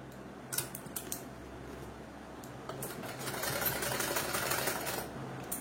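A sewing machine stitches a dress piece in quick mechanical bursts, a rapid rattling hum starting and stopping in short runs, close up, then running longer in the second half.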